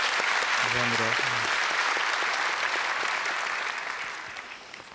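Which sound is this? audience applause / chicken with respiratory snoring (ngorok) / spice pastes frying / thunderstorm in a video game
audience applause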